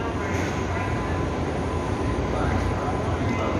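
A BART train pulls into the San Francisco Airport station, a steady, dense rumble and roar filling the platform at constant loudness with no pauses, heard close by.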